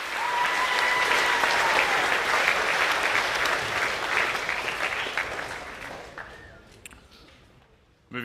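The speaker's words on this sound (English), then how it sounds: "So one last round of applause to our Year 9 Rugby League Award winners." School assembly audience applauding Year 9 rugby league award winners: full, sustained clapping from a large crowd that gradually thins and fades out toward the end, then a brief sound at the cutoff.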